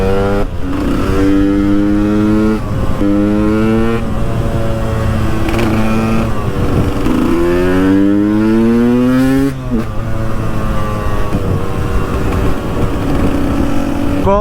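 A KTM 125 EXC two-stroke motorcycle rides along a road with a loud, continuous engine note that rises and falls through repeated gear shifts and revs, heard close up with no talking.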